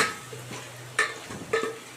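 Masala stirring and sautéing in hot oil for a brinjal and drumstick tamarind kuzhambu, a soft steady sizzle broken by three distinct scraping stirs of the spoon against the pan.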